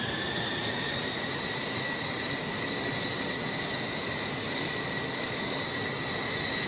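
Steady, loud jet engine roar from an F-4 Phantom accelerating for takeoff in a flight simulator game, a constant broadband rumble with sustained high whine tones throughout, no voices.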